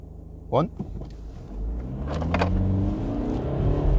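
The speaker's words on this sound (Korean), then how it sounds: "스포츠 플러스 모드로 해가지고 가볼까요?" A 2013 BMW 118d M Package diesel hatchback accelerates in Sport Plus mode, its engine rising into a swelling, steady drone after a brief mechanical whir, while people talk over it.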